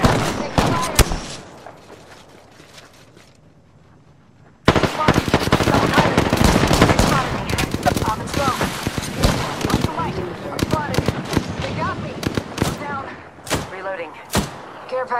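Bursts of Apex Legends gunfire: scattered sharp shots at first, then a long stretch of rapid automatic fire and impacts after a brief lull, with a player talking over it.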